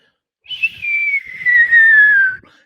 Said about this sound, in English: The eerie whistling sound got rapidly louder, overwhelmingly loud